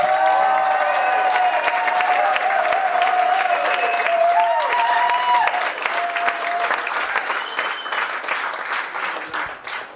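Sustained applause from a conference audience in a London hall, dense and steady for several seconds before gradually thinning, with voices and a tonal melody line drifting over it.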